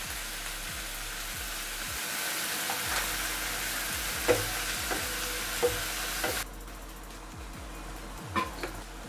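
Prawns stir-fry in a pan with a loud, continuous sizzle, a few light taps of a spoon against the pan, and a steady low background hum, which drops sharply near the end.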